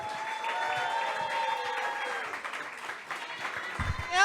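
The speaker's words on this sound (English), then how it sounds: "Keep it going for Jenny." At a comedy club, an audience claps in sustained applause for a comedian while a voice speaks over the clapping.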